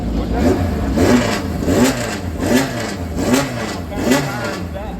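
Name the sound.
sports racer car engine revving, maybe a Sports 2000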